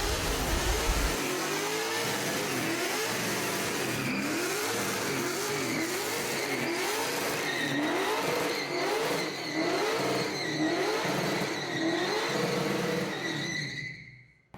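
Lexus IS300 with a swapped 1UZ V8 doing a burnout, the engine revving in steady repeated waves of high revs, loud and close, then cutting off abruptly at the end.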